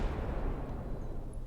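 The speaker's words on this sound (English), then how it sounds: "The particle cannon is going off." A particle cannon fires in a video game battle: a single deep, rumbling blast with a heavy low boom that lingers briefly.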